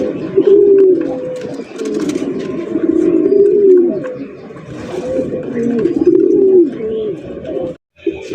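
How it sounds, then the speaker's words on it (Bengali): Magpie pigeons at a pigeon farm coo in repeated low, throaty phrases, close and loud, with faint background noise and a brief pause near the end. "হ্যাঁ, ওরে কালারের ম্যাকপাই কবুতর মাশাআল্লাহ দেখতেই পাচ্ছেন"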